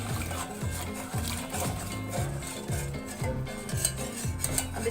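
Spoon stirring sugar and water in a metal pot, giving a repeated scraping, swishing rhythm of strokes against the pot, steady and close with no talking.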